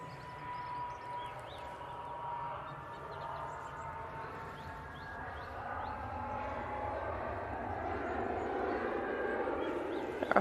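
An easyJet jet rolls down the runway for takeoff at Manchester Airport, a steady broad engine roar that builds gradually from moderate distance and grows louder toward the end.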